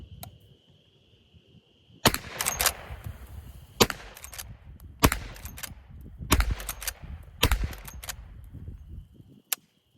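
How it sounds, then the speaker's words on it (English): A Smith & Wesson Model 1854 lever-action rifle fires .44 Magnum rounds, several sharp, loud reports spaced a second or so apart with echoing decay and a faint steady hum underneath. "The Magnum load I'm shooting is Federal's Hammerdown 44 Rem Magnum 270 grainers"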